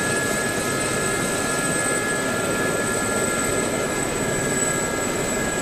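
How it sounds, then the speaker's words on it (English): Turbine of an SA-342 Gazelle helicopter in DCS being put under stress, a steady loud whine with high tonal lines over dense broadband rotor and engine roar, continuous throughout. "I'm stressing the turbine there,"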